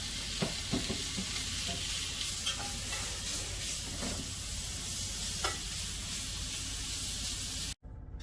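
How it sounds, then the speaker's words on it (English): Sliced ham crisping in a hot pan, giving a steady, dense sizzle and hiss throughout, broken by occasional stirring scrapes, close and continuous until an abrupt cut near the end. "I'm going to add that sliced ham, because I want to get it a little crispy"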